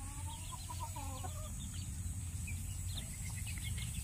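Native hens cluck in a free-range chicken house, several short, soft clucks and murmurs over a steady low background hum, fairly close.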